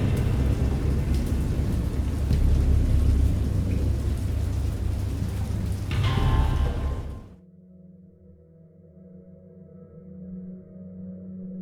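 A thunderstorm with heavy rain in the 2021 point-and-click game Dagon roars as a steady, dense wash of rainfall and rumbling for about seven seconds. It then cuts off sharply, leaving a low, quiet hum.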